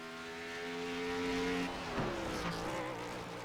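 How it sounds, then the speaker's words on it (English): Stock car in a racing video game approaching the final chicane at Circuit Zolder, engine note dropping under hard braking as the tires squeal and the left front locks up, then the engine rising again on the power. "You can hear the car just trying to break traction. Locks up the the left front."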